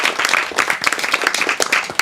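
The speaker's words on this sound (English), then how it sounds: "Applause." An audience at a live magic show claps for a volunteer, a dense, steady patter of many hands that stays loud and close for the whole stretch, with no voices over it.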